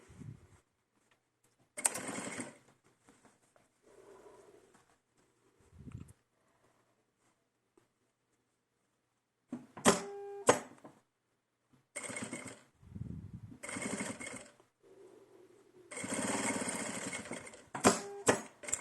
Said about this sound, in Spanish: And now 2 lines of stitches for the other part.